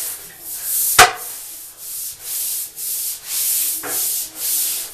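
Rhythmic back-and-forth scrubbing of a bathtub with Comet cleanser, steady strokes about twice a second, close and clear, with a couple of sharper knocks from the scrubber.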